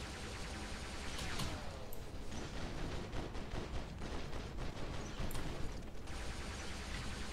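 Continuous robot weapon fire from the War Robots video game, a dense, steady barrage of rapid shots and impacts running throughout with a few sharper bursts, loud and unbroken with no talk.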